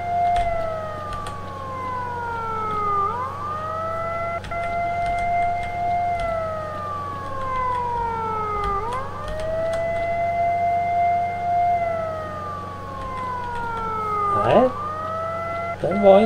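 A wailing air-raid siren in the video game S.T.A.L.K.E.R. Shadow of Chernobyl rises and falls in long repeating sweeps, loud and steady across the scene, with some faint clicks and game sounds beneath it.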